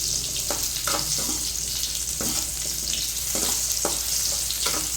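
Ridge gourd pieces fry in oil in a pan for a masala dish. The loud, even sizzle is broken by regular scraping stirs, with no talking.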